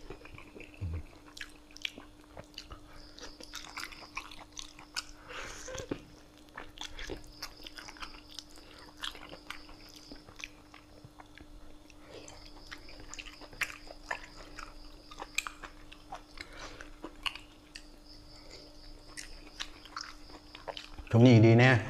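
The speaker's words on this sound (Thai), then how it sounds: "คนกินกบเขาบอกกินหนังนะครับผมว่าหนังมันของแซ่บเนี่ย" A large steamed frog, skin and all, eaten with raw-chili fermented fish dip and hot sticky rice; faint wet crunches and chewing clicks come through a quiet steady hum, with brief speech near the end.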